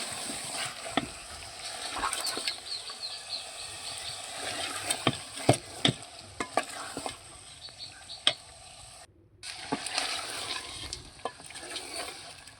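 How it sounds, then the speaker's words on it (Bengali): Chicken curry with green chilli and coriander sizzling in a pan, stirred vigorously with repeated scraping and clanking strokes over a steady fry, with a brief break before the stirring resumes. "আবার ভালো করে নাড়াচাড়া করতে হবে, কষে নিতে হবে।"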